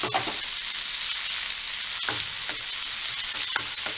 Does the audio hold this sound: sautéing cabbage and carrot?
yes